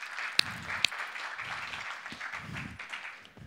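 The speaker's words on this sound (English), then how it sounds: "And you can clap" A conference audience claps lightly for a speaker taking the stage, a soft patter of hands with a couple of sharper claps near the start, fading toward the end.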